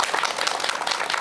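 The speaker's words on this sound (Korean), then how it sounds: "큰 박수 부탁드립니다" Lecture audience greets a professor's talk on meditation with applause: a brief, even wash of many hands clapping, moderately loud and continuous throughout, with no voices on top.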